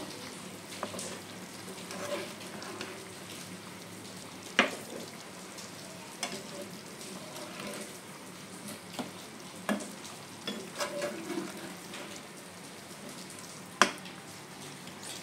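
Chicken stirred in a pan with its own released juices, a low, soft sizzle with scattered spoon clinks and scrapes, one sharper knock midway and another near the end, no voices.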